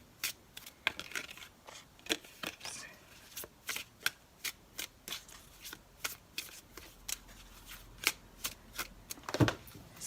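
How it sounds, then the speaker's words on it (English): Tarot cards are shuffled and spread out, giving a series of quick crisp riffles and slaps that repeat in an uneven rhythm, close and fairly quiet. "So I'll just spread the cards out and choose a couple for you"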